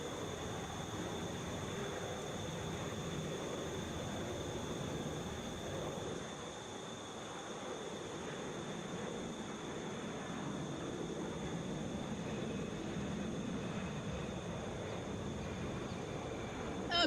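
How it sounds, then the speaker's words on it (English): A Boeing 737 airliner, Delta flight 1442 bound for Columbus at Atlanta International Airport, produces a faint, steady distant jet rumble and hiss that holds throughout without a clear rise or fall. "That's a Boeing 737."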